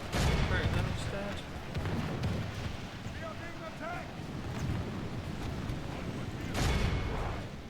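Gunfire and explosions boom across a battle in a Warhammer video game. Deep, rumbling blasts and bursts of firing come and go with wind-like noise and faint distant shouts, all under continuous voice commands.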